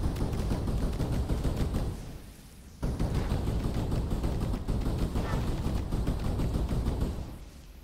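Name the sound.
spray gunfire in the video game Skyforge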